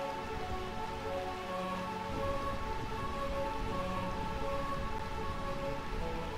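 Steady rain falls in the Final Fantasy IX realm of Burmecia, a continuous hiss of drops on surfaces with a faint underlying hum, rising slightly partway through and heard alone without voices.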